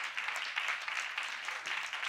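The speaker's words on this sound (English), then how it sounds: "let's give her a round of applause" An audience at a women's sexual health day event claps after a speaker introduction, a soft, fairly distant wash of many hands lasting about two seconds.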